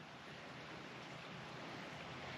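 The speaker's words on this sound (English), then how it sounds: "I can hear the creek" A creek flows beside a sandy esker at Meilleur's Bay in the Ottawa Valley, giving a faint, steady, broadband rush of moving water with no talk.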